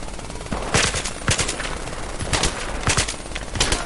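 Rapid automatic gunfire in the Battlefield 3 video game, with dense bursts and sharp shots rattling continuously at high level across the whole stretch, no voices over it.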